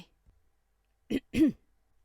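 Two short throat-clearing sounds, close and fairly quiet, the second a bit longer, following near silence.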